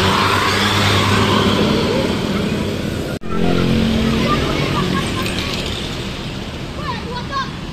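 Large tour buses pass along a roadside, a loud continuous engine rumble and road noise with a brief cut midway, then fading slightly as traffic moves on, with people talking faintly nearby.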